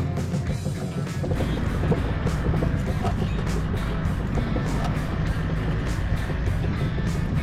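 A car with a loose wheel, its wheel nut working free, knocks loudly and repeatedly while driving, like hard hammer blows over steady road and engine noise.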